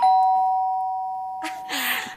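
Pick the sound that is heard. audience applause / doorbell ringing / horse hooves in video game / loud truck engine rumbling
doorbell ringing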